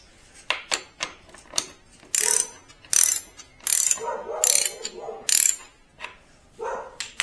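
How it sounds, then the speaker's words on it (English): A socket wrench ratchets in quick bursts while loosening the front brake pinch bolts on a Suzuki DR-Z400S motorcycle, the clicking runs repeating in an uneven rhythm, close up with no talking. "Loosen the 4 pinch bolts with a socket wrench size of 12mm."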